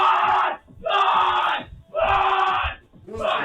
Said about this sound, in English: The other team is screaming that George is in the pod.